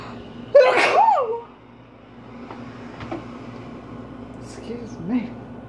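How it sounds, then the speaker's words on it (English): A single loud sneeze bursts out near the start, followed by a quieter voice, over a steady low indoor hum during allergy season. "And I'm gonna sneeze."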